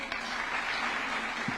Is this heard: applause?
yes